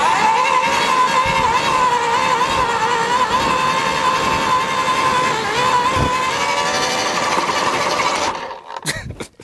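A battery-powered AEG post hole borer drives its auger into clay, a loud, steady motor whine with grinding churn held for about eight seconds, then cutting out into a few brief knocks and rattles.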